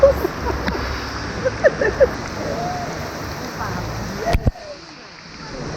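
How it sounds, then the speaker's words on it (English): Heavy, cold raindrops pelting the water and rocks at Hin Dat Hot Springs in Kanchanaburi, Thailand, a loud, steady splashing roar with sharper individual drops, before the sound suddenly drops away near the end. "the rain is so cold. And the raindrops are so heavy"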